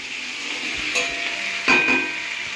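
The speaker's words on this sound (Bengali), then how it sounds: "এদিকে পেঁয়াজ, টমেটো আর ক্যাপসিকাম ভাজা হচ্ছে।" Onion, tomato and capsicum sizzle in a pan in a home kitchen, a steady frying hiss with occasional stirring clinks and utensil knocks.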